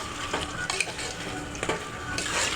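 Biryani masala paste and chicken sautéing in a pan, a close steady sizzle with scraping and clinks from a spoon stirring against the metal.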